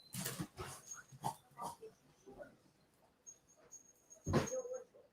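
Dogs growl in low, rumbling bursts, fairly quiet, with a louder snarl near the end and faint background noise.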